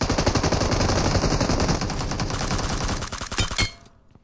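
Rapid, sustained P90 submachine gun fire in PUBG Mobile, a dense close burst rattling continuously for over three seconds before cutting off.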